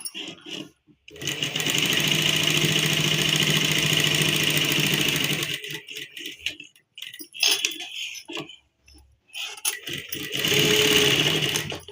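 A sewing machine stitches a pant pocket opening, running in one long steady whir for several seconds, then a few shorter stop-start bursts and a final run.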